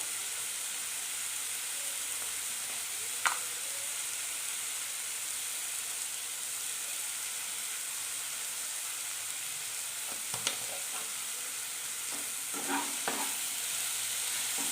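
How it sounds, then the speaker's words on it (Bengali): Spice masala with salt and turmeric frying and being stirred in a pan for ghugni, a steady close sizzle with a few scraping stir clicks near the end, no talking. "নাড়াচাড়া করে ভালো করে কষিয়ে নেব"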